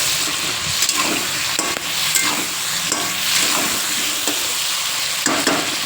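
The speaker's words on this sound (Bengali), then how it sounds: "আলু, বরবটি, এগুলো সমস্ত এবার এক এক করে ভেজে নেব।" Potatoes and long beans seasoned with salt and turmeric fry in a pan, a close, constant sizzle with scattered crackles and stirring scrapes throughout, and no voice.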